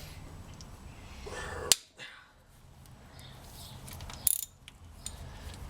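A wrench loosens the spring tensioner pulley during a timing belt job on a 1999 Mazda Miata, a sharp metallic crack followed later by a brief rattling click, close and fairly quiet.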